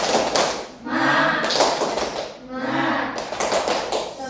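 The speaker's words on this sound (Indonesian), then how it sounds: "Ayo, tepuk semangat." A classroom of children performs a rhythmic clapping chant, bursts of claps and group voices in two or three phrases, close and fairly loud in a room.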